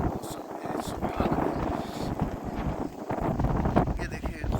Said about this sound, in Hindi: एकदम बादल चारों तरफ और हवा बहुत ही तेज़ी हवा, बहुत ही काफ़ी तेज़ हवा है